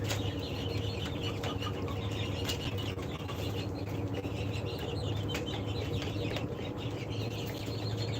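A flock of original tiger breed chickens, about 47 days old and raised for eggs on a farm, cluck and stir continuously in a dense, busy chorus with occasional wing flutters, nearby and without voices.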